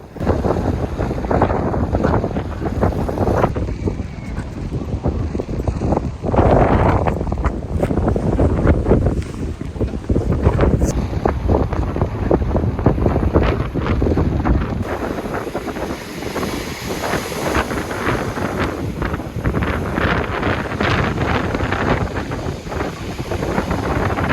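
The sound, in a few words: wind blowing on seaside promenade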